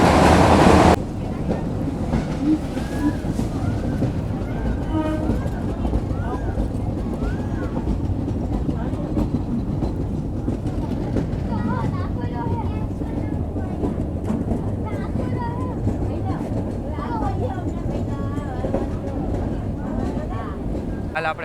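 A meter gauge train rolls from Junagadh toward Veraval through green Gir forest, a loud steady rumble with rattling wagons and squealing wheel tones, and people talk over it for much of the ride.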